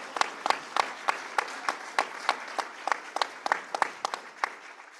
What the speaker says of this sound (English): I just want to give it a round of applause to Carrie.